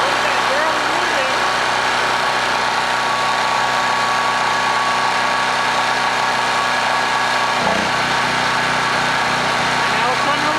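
Washing machine running on generator power restarts after being shut off, a steady loud engine-like drone with a brief dip near the end before the hum resumes, continuous throughout.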